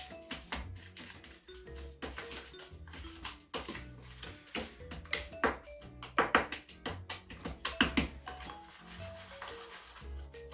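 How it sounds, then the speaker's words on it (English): A spoon stirring banana donut ball ingredients in a bowl, making steady close scraping and tapping clinks in an uneven rhythm with small pings, with no voice over it. "I'm just going to take a spoon, mix this up"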